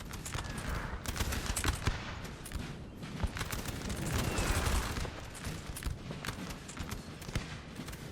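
Artillery and musket volleys crackle in a Napoleon Total War 4v4 battle, with dense rattling fusillades and scattered sharp reports, moderately loud and continuous, with no talk.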